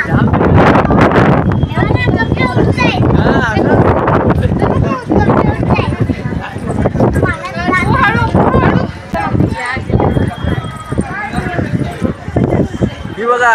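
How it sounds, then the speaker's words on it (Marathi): Strong, cold wind buffets the microphone at the Mandhardevi temple, producing loud continuous rumbling gusts, with people talking over it throughout. "एवढा वारा सुटलाय"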